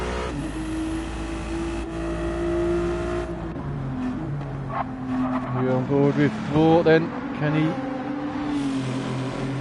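A Ferrari GT3 race car engine roars in a racing video game during a GT3 series race, revving and shifting up and down while a commentator talks over it.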